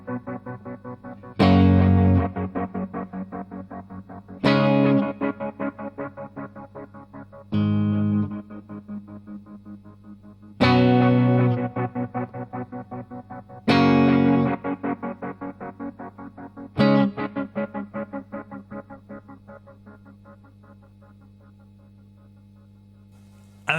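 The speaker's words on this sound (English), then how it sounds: "if you hold a sustained chord, you get the repeat, the echo with the tremolo effect on, so it's more subtle" Electric guitar through a Strymon Timeline delay pedal with tremolo: sustained chords struck about every three seconds, each followed by pulsing, wavering echo repeats that fade out, played alone with no talk.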